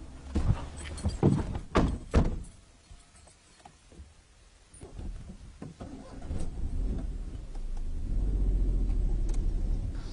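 Car being driven, with door thunks and knocks early on, then a low engine rumble swelling steadily louder toward the end.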